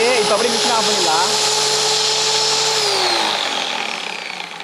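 A homemade flour mill grinds rice with a loud, steady high-pitched motor whine that starts to spin down near the end, while a voice talks over it early on.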